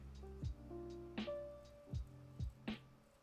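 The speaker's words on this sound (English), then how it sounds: "So I'm just cutting straight lines now" Quiet, close snips of fine scissors cutting straight lines in film for a miniature garden kit, about five sharp cuts spaced unevenly, each with a brief metallic click.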